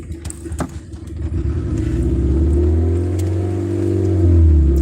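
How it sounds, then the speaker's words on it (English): An engine revs up from a rough, pulsing idle into a loud, steady, rising drone, close by, revved to build charge before a start. "Rev it up and make sure we get enough charge so that I can start it up."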